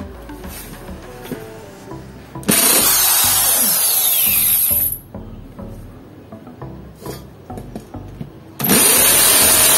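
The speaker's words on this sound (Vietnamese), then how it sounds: "khoan thử mũi M10 quan sát để xem nào" A power drill fitted with an M10 HSS titanium tap bit whirs loudly in two separate bursts, with rattling and scraping in the quieter stretch between them.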